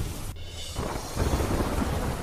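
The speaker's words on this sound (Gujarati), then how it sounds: "કાળા ડિબાંગ વાદળો સાથે વરસાદ વરસતા વિઝિબિલિટી ઘટી" Heavy rain pours under dark clouds at the Statue of Unity in Narmada district, Gujarat. A dense, steady hiss of rainfall carries a low rumble of thunder that swells toward the end.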